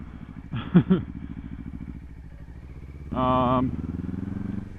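A 2026 Kawasaki Ninja 500 with its stock exhaust runs with a steady, rumbling engine note. A couple of sharp pops come early, followed by a brief louder rise in the engine sound, with a voice heard over the bike.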